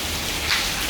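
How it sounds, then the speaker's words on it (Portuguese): Heavy rain pours down steadily, a dense close hiss of drops pattering on surfaces with no break, loud and even throughout with no voices over it. "Tá muito boa a chuva."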